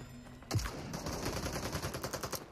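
Rapid automatic gunfire in the video game Super People, a sharp opening shot followed by a quick run of evenly spaced shots, moderately loud and close, with no voices.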